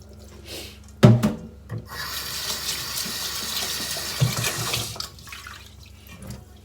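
Japanese sticky rice being washed in water in a pot, with close sloshing, swirling and grainy rubbing that starts with a sudden splash and continues for several seconds.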